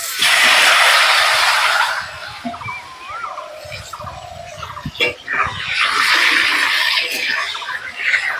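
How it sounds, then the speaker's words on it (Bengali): Potatoes dropped into hot oil left from frying fish give off a strong, hissing sizzle that eases off, then builds again, with fowl calling nearby in the background. "ওই তেলের মধ্যে আলুগুলো ভেজে নেব।"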